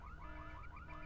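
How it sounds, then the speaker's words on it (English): A wailing car alarm set off in the video game Full Throttle cycles through rapid rising sweeps, loud and steady, with no voices over it. "So we set off the alarm."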